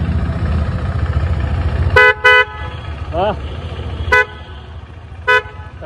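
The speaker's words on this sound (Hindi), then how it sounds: "हॉर्न" A BMW S1000RR motorcycle horn honks in short bursts, two quick beeps then two more spaced apart, loud and close over a running engine, with a brief exclamation.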